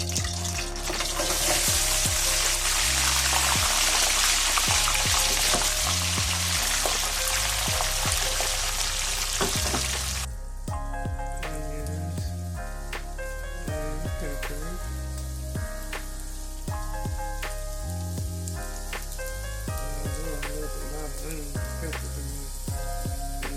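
Seasoned fries dropped by the bagful into hot grease, a loud, dense deep-frying roar for about ten seconds that then settles into a quieter bubbling sizzle, with background music running underneath.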